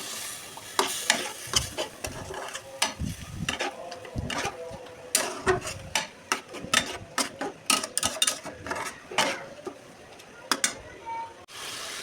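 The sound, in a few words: sautéing spices with a little water in a pan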